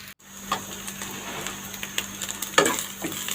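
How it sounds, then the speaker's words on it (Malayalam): Grated coconut roasting in oil in a pan with asafoetida and garlic for an okra curry, a soft continuous sizzle with occasional scraping stirs and light clinks, fairly quiet, with no talking. "ആ എണ്ണയിൽ തന്നെയാണ് തേങ്ങ വറുക്കുന്നത്."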